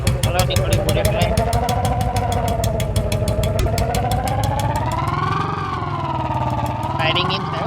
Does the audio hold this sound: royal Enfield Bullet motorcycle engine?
yes